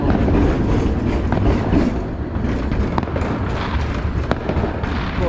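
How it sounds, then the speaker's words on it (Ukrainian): Loud fireworks bursting nonstop, deep booms overlapping with sharp crackles and pops. "салют як бабахнув"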